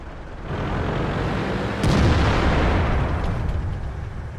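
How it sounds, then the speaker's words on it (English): A tank gun fires in World of Tanks with one loud boom partway through, over a steady roar of engine and battle rumble that runs the whole time. "I take a speculative shot trying to hit him"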